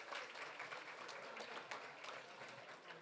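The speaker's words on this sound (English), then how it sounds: "You can clap for that." Audience clapping at a congressional breakfast, a moderate patter of many hands heard from a distance, fairly steady for a few seconds and rather faint.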